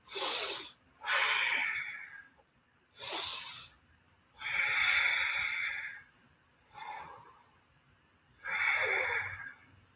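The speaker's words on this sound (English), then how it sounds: "Breathing in. And out, we're gonna stay 3 breaths." Deep, slow breaths during a vinyasa yoga flow, alternating long inhales and exhales in an even rhythm, close and clear, six breath sounds with short pauses between them and no talking.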